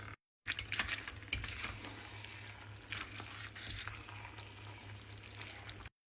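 Pancit canton noodles with vegetables are stirred in a pan of seasoned broth, making a soft, continuous sizzle and scraping with a low steady hum underneath, cutting in after a brief gap and stopping abruptly.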